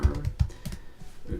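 Typing on a computer keyboard fitted with a keyboard protector: a quick run of muffled, irregular keystrokes, close and soft, with no talking.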